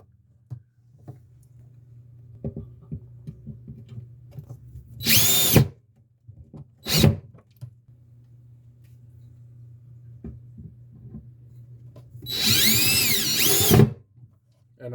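A power drill driving screws whirs in three separate bursts, two short ones and then a longer run, with a steady low hum and light clatter in between, while fixing a 4-inch round electrical box to lumber.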